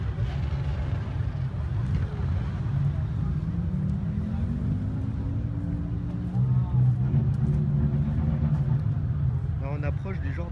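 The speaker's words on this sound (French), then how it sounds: "Je suppose que vous les entendez quand même un petit peu, les motards." Motorcycles ride past during a street demonstration in February 2018, their engines droning and sweeping in pitch at moderate distance. A person talks over the steady traffic noise.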